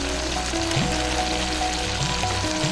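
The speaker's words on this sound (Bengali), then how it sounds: "এবার সবগুলো একসঙ্গে ভালো করে কষিয়ে নেব" Mustard and poppy seed paste with turmeric, chilli powder, salt and cumin sizzling steadily in a pan, a continuous close frying hiss with faint stirring noises.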